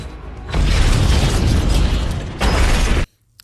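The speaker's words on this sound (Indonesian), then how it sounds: "Max Adam tewas akibat ledakan yang terjadi di gudang senjata miliknya" A loud, heavy explosion in a weapons warehouse rumbles for a couple of seconds, swells again, then cuts abruptly to near silence.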